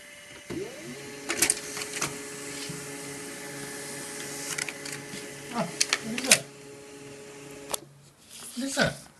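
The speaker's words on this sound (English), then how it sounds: "What came out of the printer?" A laser printer runs with a steady mechanical hum and whir while a page feeds through, with short clicks and clunks along the way, close by and moderately loud, and a few brief voice sounds near the end.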